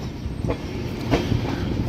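From on board, a train rolls into Erraguntla Junction railway station with a steady low rumble. A few faint clicks of wheels over rail joints come through.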